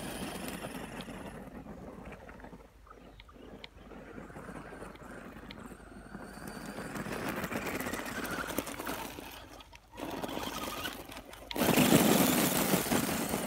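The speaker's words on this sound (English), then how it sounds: "we'll see if we can make this thing rip with a brushless motor off of Amazon. Still kicking up rocks." A small RC car with a brushless motor from Amazon, powered by an Ovonic 5200mAh 50C 2S LiPo battery, whines and buzzes in surges outdoors, kicking up rocks, the sound fading and returning louder as it drives.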